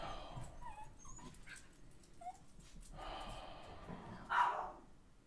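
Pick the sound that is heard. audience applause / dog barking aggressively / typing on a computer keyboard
dog barking aggressively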